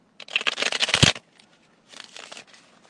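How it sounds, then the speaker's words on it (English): A deck of tarot cards being shuffled by hand, a dense riffling burst for about a second, then a softer second shuffle after a short pause, close and alone. "One more shuffle."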